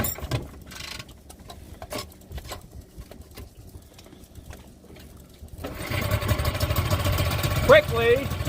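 A Tohatsu outboard engine catches after a recoil pull and settles into a loud, steady idle while its choke is eased in to warm it; quieter handling noises precede the start, and a voice may talk under the running motor.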